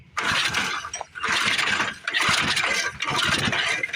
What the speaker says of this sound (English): she fired up and ran with the choke on. Let's try that again.